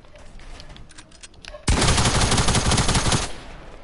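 Fortnite gunfire: a few light, scattered shots, then a sudden loud burst of rapid automatic fire that lasts about a second and a half before cutting off.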